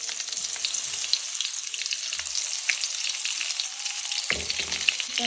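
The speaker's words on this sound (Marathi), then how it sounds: "आणि थोडीशी मोहरी टाकू आणि भरलेले वांगे परतायला टाकू" Stuffed brinjals frying in hot oil with mustard and cumin seeds, a close, continuous bright sizzle with scattered pops and a few soft clunks of the pan, no talking.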